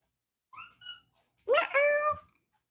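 A pet cat meows indoors in a home kitchen: two short, high chirping calls, then a longer, louder drawn-out meow, close to the microphone.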